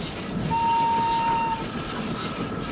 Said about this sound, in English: Henry whistled goodbye as he took the train up the line